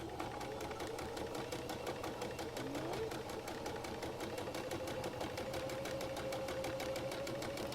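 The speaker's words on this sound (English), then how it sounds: "I'm going to sew almost as close to the edge as I can." Sewing machine stitching close to the edge of fabric for a face mask, a steady rapid mechanical hum and needle clatter, continuous and fairly quiet.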